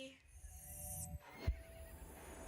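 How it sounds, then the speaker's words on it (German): A horse in the video game Star Stable gives a short, high whinny, followed by a soft snort, against a quiet background with faint hoofbeats. "Oh, ich liebe dieses Pferd."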